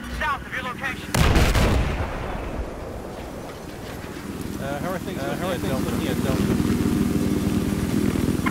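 Battlefield 4 combat on the Flood Zone map, with a quad bike engine buzzing and revving while loud gunfire and a heavy blast ring out, and a player talking over the chaos.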